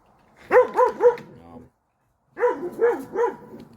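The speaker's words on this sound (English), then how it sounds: "Sorry about the dog." A dog barks in two short bursts of three or four rapid, fairly loud barks each, separated by a brief pause, in an otherwise quiet indoor setting.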